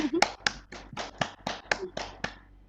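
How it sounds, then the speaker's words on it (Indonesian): Applause in a classroom during a teaching session comes as about nine crisp, evenly spaced claps close by, with a brief voice at the very start before the claps fade out. "kasih tepuk tangannya dulu buat si Clarissa dulu"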